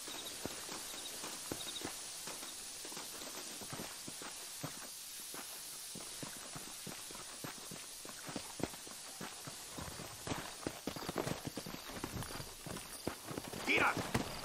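Horse hooves clip-clop steadily in Red Dead Redemption as riders head out on horseback, a fairly even stream of near hoofbeats over a continuous background bed throughout.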